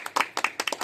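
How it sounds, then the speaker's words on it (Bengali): A small group clapping hands together in unison, a quick burst of several sharp, close claps lasting under a second. "সবাই মিলে একসঙ্গে হাততালি।"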